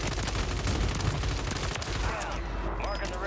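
Rapid gunfire in the Warzone video game on Rebirth Island, a dense burst of shots rattling close and loud, then thinning out toward the end.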